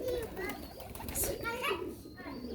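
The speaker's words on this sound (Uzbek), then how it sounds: "Mana o sayrayapti bir jup Pokiston mana" Pakistani pigeons, a pair released outdoors, coo and call in short bursts over a busy background of children's voices and other talk nearby.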